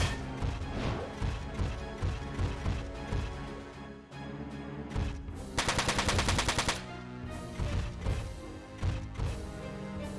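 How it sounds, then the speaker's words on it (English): Rapid gunfire from the video game Front Mission 4 comes as dense, loud bursts of repeated shots, with a sustained machine-gun stretch in the middle, set among game effects and music. "There you go, rapid fire."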